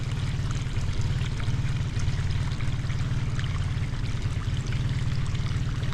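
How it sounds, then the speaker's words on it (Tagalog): Water poured and gushing steadily onto soil fill to settle it, a loud continuous rushing stream with no pauses and no voices. "Tubigan mo natin dito para bumaba yung tambak."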